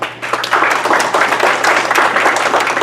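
Loud, dense applause from an audience welcoming an engineer at a technical talk on foam asphalt stabilized granular bases, a continuous close roar of many hands clapping.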